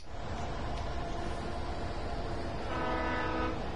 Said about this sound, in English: no, that's a train